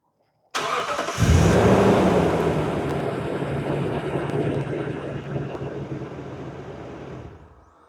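A 2015 Toyota Tundra 1794 Edition with a 5.7 liter V8 cranks and fires up loud and close. It settles into a steady, rumbling idle that slowly eases off. No voices.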